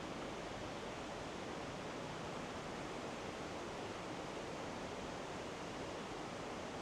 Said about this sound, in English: There is noise pollution, obviously, because of the river.